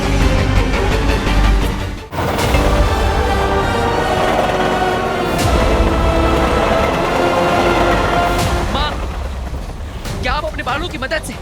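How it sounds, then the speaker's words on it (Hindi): Train rumbling loudly and continuously along the tracks, a heavy rolling roar with occasional sharp clanks, heard in a fantasy television drama scene while people talk over it. "बालों की मदद से इस रेलगाड़ी को रोक सकती है"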